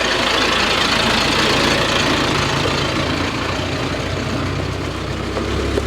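A tractor engine rumbles steadily and close by, a heavy, low, knocking drone that holds its level throughout and swells slightly near the end as it passes.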